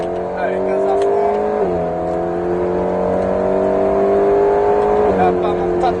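An Alpine A110S at full throttle on the Alès racetrack: a loud, close engine note rising steadily in pitch, with brief drops at gear changes, heard from inside the car under occasional talk.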